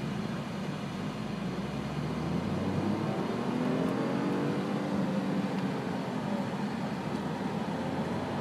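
A Smart car pulls away from a standstill in full manual mode, its small engine droning steadily and rising in pitch as it accelerates. Road and cabin noise stay constant and fairly loud throughout, with no voices.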